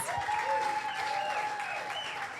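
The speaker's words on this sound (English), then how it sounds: "Give her a round of applause." Wedding guests applaud a woman as she is welcomed onto the dance floor at a reception, steady dense clapping filling the room, with a sustained tone and some faint chatter running underneath.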